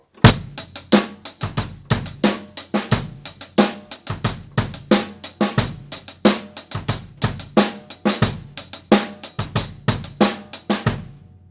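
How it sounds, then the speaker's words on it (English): A steady funky drum groove with fast, double-time hi-hat strokes evenly spaced between punchy kick and snare hits, played alone and loud. "I'm going to take the hi-hat, I'm going to play it in double time."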